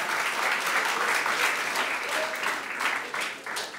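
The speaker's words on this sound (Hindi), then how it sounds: "आप सबकी तालियों की गूंज में" Audience applause at a university event at Riphah International University: sustained, dense clapping from a crowd fills the room at a steady level for several seconds, with no voices over it.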